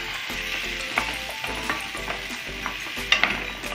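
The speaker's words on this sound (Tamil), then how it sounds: "மாங்காய் எல்லாத்தையும் போட்டு நல்லா வதக்குங்க." Cut raw mango sizzles in hot oil while a spoon stirs and scrapes against the pan in a steady close rhythm, with occasional sharper clinks and no voices.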